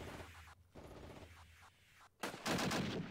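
Bursts of distant gunfire and heavier automatic fire in the tactical war game Armoured Brigade, a US versus Soviet armoured battle, rolling and rumbling, swelling louder near the end.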